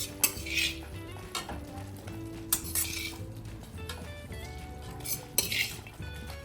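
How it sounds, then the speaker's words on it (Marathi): Vegetables hit hot oil and masala in a pan with a steady sizzle, and a spoon scrapes and clinks against the metal several times as everything is stirred together. "आपण आता याच्यामध्ये भाज्या ॲड करून घेऊ."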